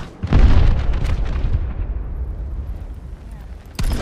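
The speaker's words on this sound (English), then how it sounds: "Three, launching missiles." Missiles launch and explode in a video game: a sudden heavy boom opens, then a long rumbling decay, and a second sharp blast hits near the end.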